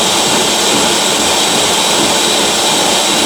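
Blender pulsing homemade salsa ingredients: a loud, steady, dense whirring roar that runs continuously at close range with no talk over it.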